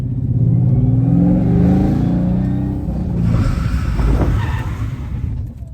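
A drift car with a welded differential spins out on dirt, its engine revving loudly and roaring, dropping briefly, then surging again with scrabbling, skidding noise close by.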